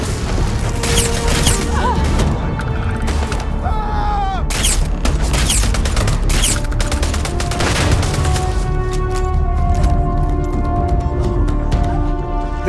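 Chaotic firefight in the sci-fi game Starfield, with dense bursts of gunshots, rapid fire and booming impacts layered closely and loudly throughout.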